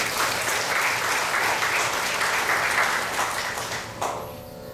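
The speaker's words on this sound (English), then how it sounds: "Give him a nice round of applause." Audience at a Ramayan satsangh in a Shiva Mandir applauding to welcome Pandit Toolsie Persad, a dense, steady burst of many hands clapping indoors that drops off sharply near the end.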